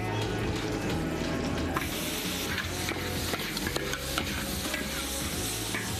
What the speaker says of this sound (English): here you get a nice little sizzle. The bottom of the spatula is the shape of the wok, and so when you scrape, it gets everything.